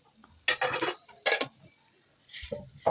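Mustard seeds, chana dal, urad dal and cumin stirred in a pan for carrot rava upma, a few short scraping and clinking bursts of utensil against metal with quiet gaps between, close up.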